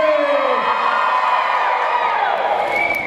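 A large crowd at a 2006 Decatur event shouts "hey" on cue, a loud, sustained mass of voices and whoops rising together.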